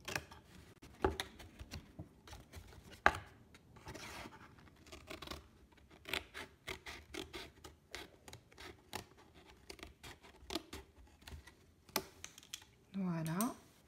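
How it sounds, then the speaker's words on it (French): Scissors or a cutter snip and slice through a cardboard packaging box in short, irregular crisp clicks and crunches, quiet and close, with a brief louder rustle at the end. "ce qui va vous permettre avec la paire de ciseaux ou un cutter"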